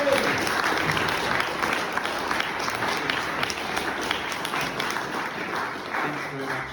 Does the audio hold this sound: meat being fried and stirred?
no